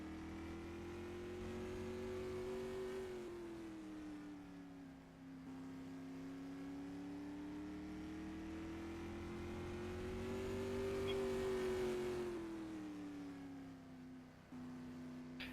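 A supermodified race car laps an oval track during time trials at the Jim Shampine Memorial, its engine droning loud and continuous, pitch rising down the straights and sagging through the turns, with no voices over it.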